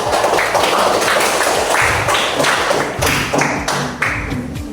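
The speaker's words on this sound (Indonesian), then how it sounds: "beri tepuk tangan untuk kelompok" A school class applauds a student group with dense, steady clapping and thumping taps throughout, loud and close, with no talking.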